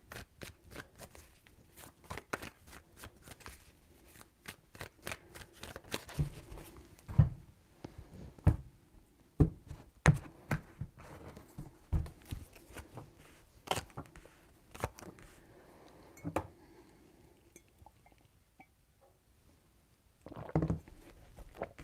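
Tarot cards being shuffled by hand, three bouts of crisp riffling and slapping taps, close and fairly quiet, with pauses between, the last burst near the end.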